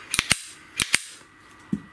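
A traumatic pistol's trigger is dry-clicked five times, giving sharp, close metallic snaps in two quick pairs and then a softer single click, with no talking.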